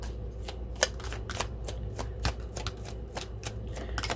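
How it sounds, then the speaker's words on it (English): A deck of tarot cards being shuffled by hand, the cards sticking together, giving a steady run of soft crisp riffles and slaps, close and quiet, with no voices. "Wasn't wanting to shuffle. The cards are sticking together."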